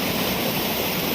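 Water pours over a dam during heavy rain, a steady broadband roar that stays even and close for the whole brief moment, with no voices.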